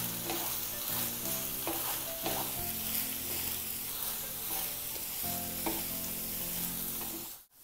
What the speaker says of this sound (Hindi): अब हम इसमें स्प्रिंग ऑनियन डालेंगे और मशरूम डाल देंगे और इन सबको भी अच्छे से मिला लेंगे